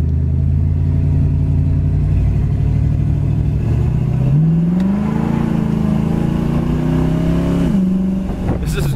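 A 1966 Ford Mustang convertible's 289 V8 with dual exhaust rumbles loud and close, a deep throaty idle that rises into a revving climb and settles back, a brief sharp noise at the end.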